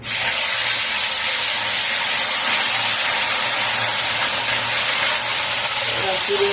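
Ginger paste hits hot oil in a pan for a pomfret fish curry and sizzles loudly in a dense, steady hiss close by, lasting throughout with a faint voice beneath it.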